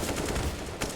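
Rapid bursts of rifle fire during a close-range duel in Counter-Strike on the Inferno map, dense and continuous, with a sharper burst near the end and no voices.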